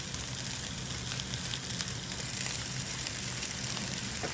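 Potstickers sauté in a Power XL cooker with a steady, close sizzle and crackle of frying oil, continuous and even throughout with faint pops and no talking.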